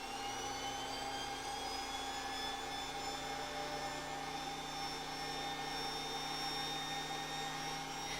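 A Kirby G5 vacuum cleaner runs with its orbital massager tool attached to the hose, giving a steady, continuous motor whine with high tonal harmonics that holds evenly throughout, with no talking.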